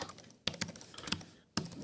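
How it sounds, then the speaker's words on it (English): Quick, faint keystrokes on a computer keyboard as a password is entered, an irregular run of soft clicks with a couple of sharper key hits. "I'm just typing in my password."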